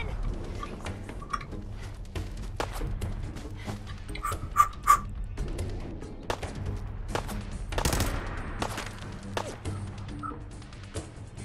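Gunfire in the Fallout 4 video game comes in scattered sharp bursts and single cracks, some louder impacts mid-way, over a low game background.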